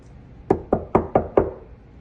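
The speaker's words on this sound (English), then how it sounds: "Knock, knock." Five sharp knocks on a door, evenly spaced and close, rapping at a brisk steady rhythm against a quiet background.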